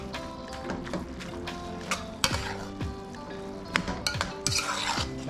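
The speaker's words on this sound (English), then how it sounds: "Now I'm going to stir everything together." Corned beef and cabbage being stirred together in a pot: a spoon scrapes and clinks against the metal in irregular strokes, with a few sharper knocks, over a steady tonal background.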